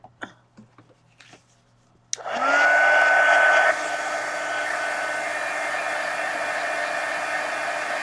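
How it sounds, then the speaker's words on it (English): After a few quiet handling taps, a heat gun kicks on abruptly and blows with a loud, steady whirring roar, drying a mixed media art journal cover, then drops slightly in level and keeps running. "let's dry this with the heat gun"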